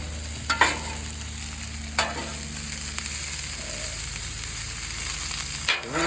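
Chicken stir fry sizzling on a Blackstone flat-top griddle, a steady close hiss of frying with a few sharp clinks of a spatula scraping the metal surface.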